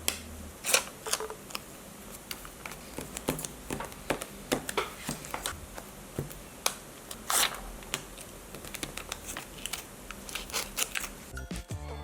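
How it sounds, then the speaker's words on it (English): Stickers are peeled from backing sheets and pressed into a bullet journal, giving soft crinkles and sharp, scattered ticks and crisp snaps heard very close and quiet, spread irregularly over several seconds. "So prepare for some sticker ASMR."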